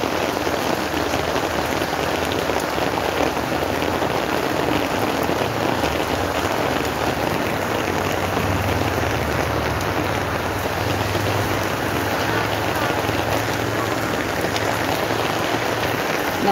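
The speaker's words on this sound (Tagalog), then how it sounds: "Inabutan na po tayo ng ulan, guys." Steady outdoor rainfall, dense and constant, pattering on surfaces close by with an even, unbroken hiss throughout and no voices.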